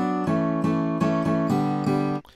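Guitar in a mix, strumming or striking around six evenly spaced chords that ring over one another, fairly loud and close with no speech.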